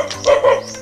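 A dog at a house in Poctoy, Surigao gives two short, loud barks close by, alone without other voices.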